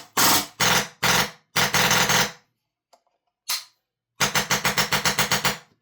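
A Wolverine MTW AK105 airsoft rifle fires several loud, close bursts of rapid clattering shots with short gaps, then a single brief shot and a final longer run of distinct rhythmic shots, with no talking.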